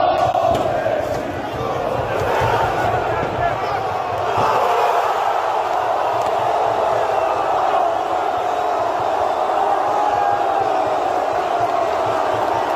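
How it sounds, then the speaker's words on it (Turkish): Beşiktaş football fans chant in the stadium stands before the final against Galatasaray, a dense, sustained roar of massed voices that fills the space steadily throughout. "Beşiktaş taraftarlar tam takımını desteklemeye başlayınca bir arkadaş da tribünü çekiyor"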